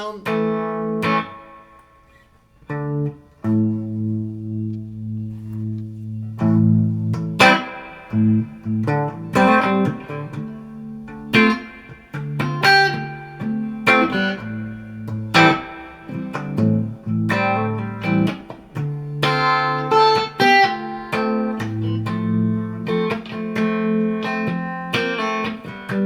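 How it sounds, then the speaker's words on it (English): An electric guitar plays through a univibe-style modulation setting on a Keeley Mod Workstation pedal, mixing strummed chords and melodic single-note runs that throb with a swirling warble, steady and prominent across a long passage with no voices. "this is going to give you a little bit more of a univibe type of sound"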